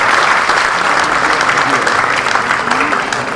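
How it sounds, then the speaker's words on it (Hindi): Loud, dense applause from a live stage show audience welcoming a guest, a continuous roar of many clapping hands filling the hall without a break. "बहुत सारी तालियों में हम सब मिलकर स्वागत करें ऐसे दिग्गज हमारे"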